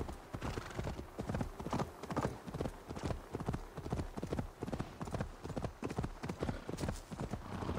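Horse hooves clip-clop in a steady rhythmic gait in the video game Assassin's Creed Valhalla, with a faint whinny near the end, all heard quietly under the game's ambience.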